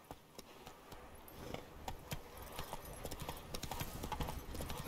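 Roach, the horse in The Witcher 3, gallops along with rapid rhythmic hoofbeats clopping steadily and growing slightly louder, a quiet rumbling game soundscape beneath.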